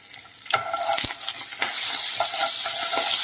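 Roasted gram, dried chillies and curry leaves rattle and scrape under a spoon in a hot pan, a few sharp stirring strokes giving way to a louder continuous sizzle, no speech.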